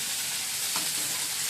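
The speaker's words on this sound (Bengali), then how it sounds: "টমেটো কুচি, ক্যাপসিকাম আর কর্ন দিয়ে দিয়েছি, পেঁয়াজও দিয়ে দিয়েছি, একটু নাড়াচাড়া করে" Chopped tomato, capsicum, corn and onion stir-fried in a pan, giving a dense, steady hiss of sizzling with a soft stirring scrape near the middle, close and continuous.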